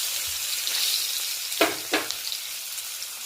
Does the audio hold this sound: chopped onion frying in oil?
yes